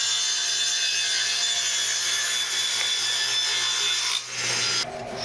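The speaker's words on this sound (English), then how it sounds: "Now to cut the edges square." A steady whining, rasping cut runs through scrap wood boards as the edges are squared, loud and close, ending in a brief dip and a change of tone near the end.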